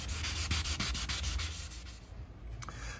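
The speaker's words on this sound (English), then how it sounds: "So that's me kind of sanding it down." Steady rhythmic rasping of wet sandpaper rubbed back and forth over a Honda Civic Type R bumper, close up, with a continuous low hum underneath and no talking.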